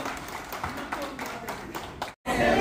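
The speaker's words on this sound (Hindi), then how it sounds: "जोरदार तालियां यार, जोरदार तालियां" Hearty clapping at an office colleagues' get-together party, a rhythmic burst of hands with a voice mixed in, cutting off abruptly before louder noise resumes.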